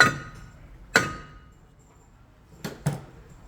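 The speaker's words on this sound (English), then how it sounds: "Tap it with the hammer." A hammer strikes a brake rotor on a 2012-2017 Toyota Camry rear brake job: four sharp metallic taps, one at the start, one near one second and a close pair toward the end, with ringing decay.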